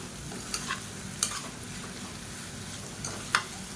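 Egg masala sizzling in a pan while a spoon scrapes and stirs, with a few sharp clinks at irregular intervals.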